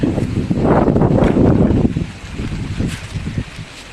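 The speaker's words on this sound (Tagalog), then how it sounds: "Lakas ng hangin. Oh, lakas ng hangin." Strong wind buffets the microphone with a steady, loud roar that eases slightly toward the end, with faint water and surf sounds beneath.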